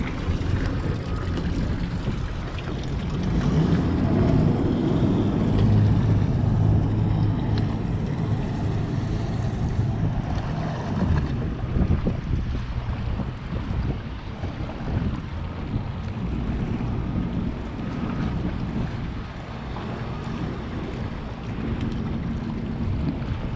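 A boat engine runs steadily with a low rumble, loudest early on, blended with wind buffeting the microphone and the wash of water.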